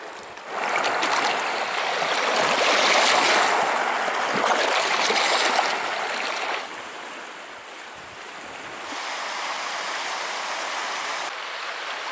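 A flowing river at Pictured Rocks, Michigan rushes steadily nearby, with wind buffeting the microphone and the water's roar easing slightly partway through; no one speaks.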